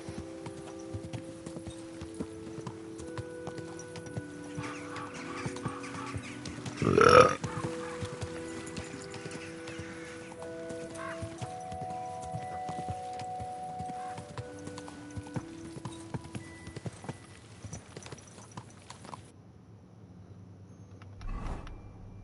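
In Kingdom Come: Deliverance II, a horse's hooves clop along steadily at a moderate distance. A brief loud snort or neigh rises in the middle, and faint creaks accompany the steps.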